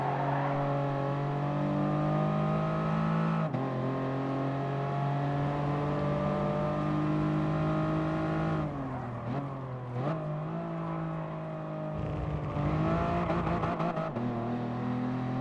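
A safety car in Gran Turismo Sport pushed into oversteer through corners, its engine droning steadily with a whining tone that dips and surges as it brakes and accelerates, loud and continuous with no speech.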